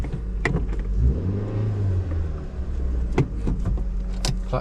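A car with a manual gearbox pulls away and accelerates on a test drive, the engine note rising in a smooth climb before easing off, close and fairly loud, with a few sharp clicks and knocks from the cabin and no talking.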